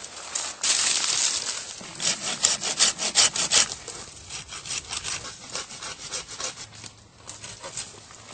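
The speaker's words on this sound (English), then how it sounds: "We're all done pruning this buckthorn." A hand saw cuts through buckthorn branches during tree pruning, giving rhythmic back-and-forth rasping strokes, close and fairly loud, with short pauses between bursts of sawing.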